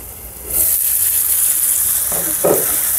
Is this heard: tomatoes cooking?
yes